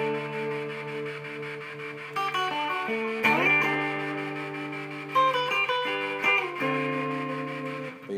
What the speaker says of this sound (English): Now you'll hear a fuzz and tremolo in the background.